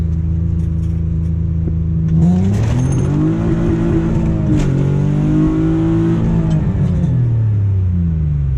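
A V6-swapped Honda Civic revs hard through a second gear pull, the engine note climbing from a steady drone into a loud, rising then falling rasp, close and sustained with no talk.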